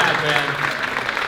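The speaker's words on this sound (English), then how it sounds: "give him a round of applause." A round of applause from a live audience, steady dense clapping filling the short moment at a comedy-style show, with no voices rising above it.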